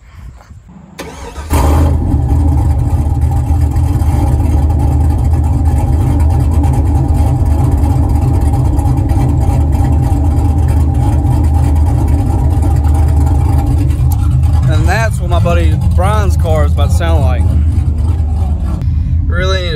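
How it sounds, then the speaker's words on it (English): A cammed Ford Mustang fires up on a warm start and settles into a loud, close, lumpy idle with a rhythmic chop that runs steadily throughout; a voice speaks over the engine toward the end. "I'm gonna set y'all up and get a warm start so y'all hear this baby chop."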